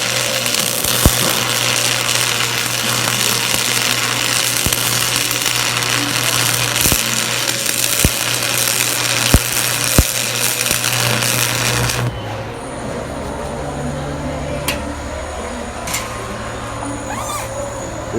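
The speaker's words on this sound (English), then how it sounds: "This weld might not be the greatest doing this one hand, but it is what it is." An arc welder lays a bead with a steady crackling sizzle and scattered sharp pops for about twelve seconds, then the arc stops and quieter background sound remains.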